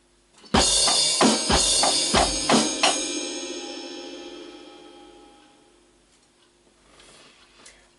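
A drum kit plays a short groove with ride cymbal, snare and bass drum, a handful of close, punchy hits over about two seconds before the ringing cymbal decays slowly into near silence.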